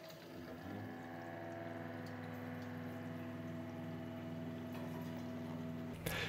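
A reverse osmosis water filter unit (Osminion Slim) running as its water supply reopens, giving a steady mechanical hum with flowing water that holds evenly throughout, close and moderately loud, with a brief click near the end.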